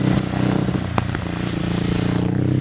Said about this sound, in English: the exhaust sounds awesome. It pops and crackles on the overrun.